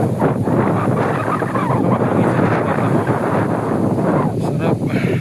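Strong wind blows steadily across the microphone at a scenic park in Bulacan, a loud continuous rushing roar with brief gusty swells and no pauses.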